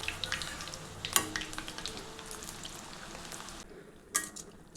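Rava murukku, a semolina spiral snack, frying in hot oil, giving a steady soft crackle and bubbling with a few sharper spatters and clinks of a utensil.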